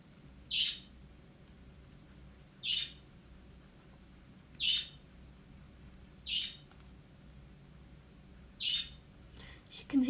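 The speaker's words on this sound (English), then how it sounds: "She can hear the birds outside," Birds singing outside, five evenly spaced sharp chirps about two seconds apart, faint and distant over a quiet indoor hum.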